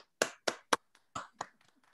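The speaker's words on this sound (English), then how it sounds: "we're going to give you a round of applause." A few claps sound in quick succession, sharp and close, then several softer, thinner claps trail off, like a small, compressed round of applause over a video call.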